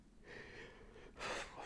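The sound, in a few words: half yawn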